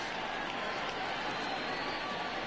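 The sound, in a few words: baseball stadium crowd in video game MLB The Show 20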